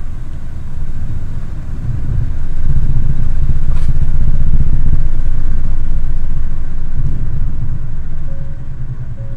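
Ford Focus 1.6 TDCi diesel engine running at steady revs around a thousand rpm, a continuous low rumble that swells slightly in the middle and stays close and fairly loud throughout.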